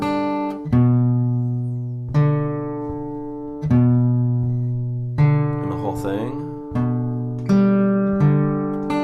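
Guitar played in a thumb-and-fingers fingerpicking pattern: clear plucked notes ring out about every second and a half, each decaying slowly, with a short spoken phrase in the middle.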